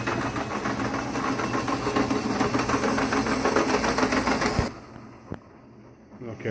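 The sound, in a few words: model train locomotive pulling a boxcar along track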